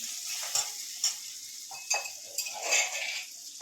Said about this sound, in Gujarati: હલાવી નાખશું આપણે